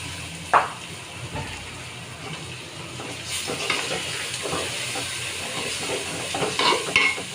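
Soaked rice for pulao frying in a pan over high heat while being stirred, a continuous sizzle with scraping and clinking of the spoon, swelling louder toward the end, no talk.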